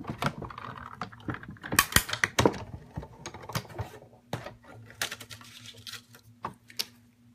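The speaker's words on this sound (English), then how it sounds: "get everything set up, ready to go, and crank through the Big Shot" Paper being cranked through a Big Shot die-cutting machine during card stamping, giving a run of sharp, irregular mechanical clicks and clunks, close and moderately loud, over a low steady hum.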